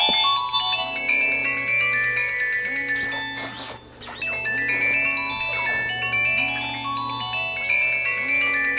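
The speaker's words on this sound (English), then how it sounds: "I've got a phone call now and I'm not gonna take it." A mobile phone rings with an incoming call, playing a bright repeating ringtone melody in steady cycles at moderate volume, with no talking over it.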